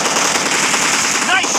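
Rapid automatic gunfire in the BGMI battle royale game, a loud, dense, continuous stutter of shots close by, with game sound beneath.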